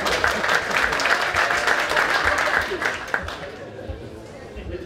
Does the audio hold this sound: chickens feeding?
no